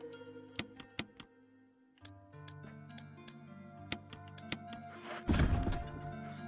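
Weapons reloading in a Resident Evil video game, a series of sharp mechanical clicks and thunks spaced irregularly over low background music, ending in a louder burst of clatter.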